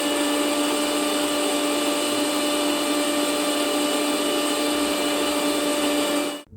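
A mixer grinder grinds coconut, cumin, turmeric and shallots into a masala paste, running as a steady loud whine with a strong tonal hum for several seconds before cutting off abruptly at the end.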